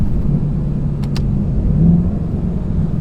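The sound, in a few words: Nissan R34 Skyline engine downshifting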